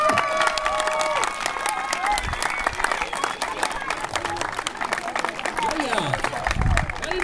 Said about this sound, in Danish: Kan I høre det bravende bifald?